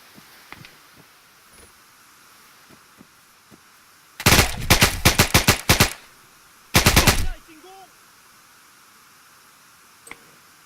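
Two loud bursts of automatic gunfire in the Arma 3 military game, one long and one shorter, separated by a pause, with sparse faint clicks and quiet background elsewhere.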